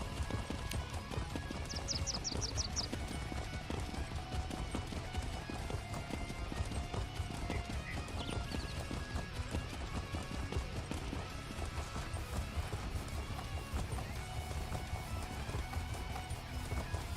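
Rapid, steady clip-clop of galloping hooves runs throughout, loud and continuous, with a brief whinny early on and faint game sounds layered underneath, from the game Elder Scrolls Online.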